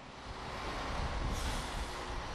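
A train in Japan making an emergency stop gives off a broad, rumbling roar of wheels on rail with a rising hiss, loud and continuous throughout.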